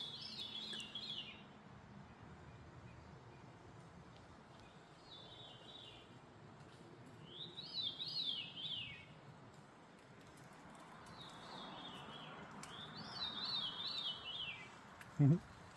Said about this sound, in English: This is the craziest bird whistle out here.